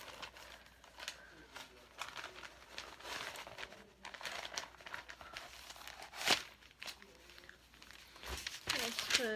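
Packing paper is crumpled and torn while a Gap clutch is unboxed, a near, irregular run of crinkling and rustling bursts with a few sharper tears, ongoing throughout.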